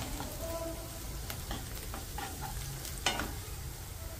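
Two or three medium green chilies sauté in hot oil, crackling in a steady sizzle broken by scattered stirring taps and one sharper clack near the end, with no voices.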